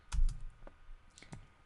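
Computer keyboard typing a command in Rhino 3D modeling software, a few soft, close keystrokes and clicks spaced irregularly in a quiet room.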